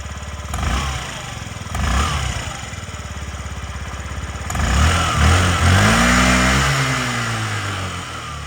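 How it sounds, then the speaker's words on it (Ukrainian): A Yamaha Jog SA55 fuel-injected scooter engine idles steadily with a buzzing putter, then revs up louder around the middle and settles into a higher, uneven drone. "Тихенька, гарна робота двигуна"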